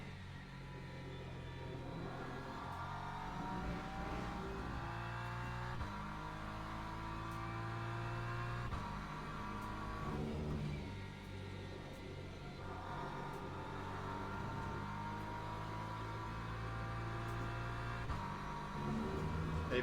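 BMW prototype race car engine at Spa in Le Mans Ultimate, a steady loud drone with shifting harmonic pitch sweeps as it accelerates and shifts, running continuously throughout without talk.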